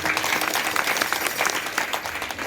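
An audience at a kirtan breaks into dense, sustained applause, many hands clapping together at an even level for the whole stretch, with a faint voice beneath the clapping.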